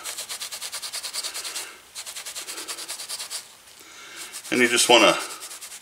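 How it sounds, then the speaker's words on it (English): Hand buffing of a leather 1911 pistol holster during restoration: steady rhythmic rubbing strokes, close and moderately loud, in two bursts with a pause, then a brief squeaky burst; someone speaks briefly. "make sure you give it a good buffing"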